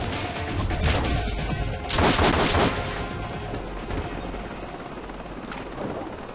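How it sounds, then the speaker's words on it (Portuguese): Video game combat in The Matrix: Path of Neo on PS2, a helicopter under gunfire, heard as a dense continuous roar of rotor noise mixed with rapid shots and crashes, loud and sustained with a burst of heavier impacts near the middle. "O helicóptero vai vir de novo."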